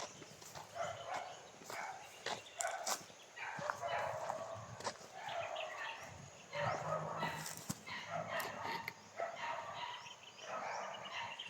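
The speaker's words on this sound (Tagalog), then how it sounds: "Bakit daming aso Nil?" Several dogs bark repeatedly in overlapping bursts at a moderate distance, mixed with other animal calls and people talking.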